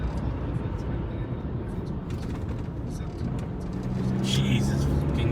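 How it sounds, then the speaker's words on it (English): White work truck driving past, a rumbling vehicle engine and tire roar that swells toward the end as it draws close, under ongoing traffic noise. "White work truck."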